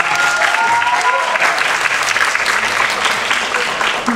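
Steady, loud applause from a crowd greeting a guest's arrival at a music video press launch, dense clapping sustained throughout with a few faint voices mixed in.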